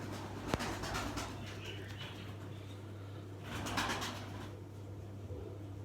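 Miro pigeons, a Turkish fancy breed kept in a breeding loft, coo softly in low repeated murmurs over a constant hum, with a couple of sharper rustles or wing sounds nearby.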